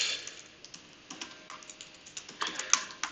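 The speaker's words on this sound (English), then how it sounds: "And now you're all discovering how terrible my typing is." Rapid keystrokes on a computer keyboard, close and clear, with irregular bursts of clicks and short pauses, some keys struck harder than others, no voices.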